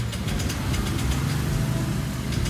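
A motorcycle engine with a throttle body and IACV fitted idles steadily, a close, continuous low rumble with a rapid, slightly uneven pulsing beat throughout.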